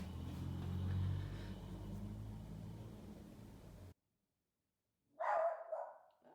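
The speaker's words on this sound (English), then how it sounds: "And there's my dog." A pet dog barks in a short, loud burst near the end, after steady traffic rumble from a passing car or truck fades to silence indoors during a painting session.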